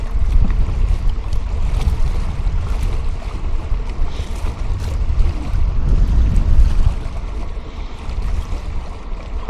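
Wind roars steadily over a fishing boat on open water, with broad low rumble and buffeting against the microphone, strong throughout with gusts swelling mid-way; no voices.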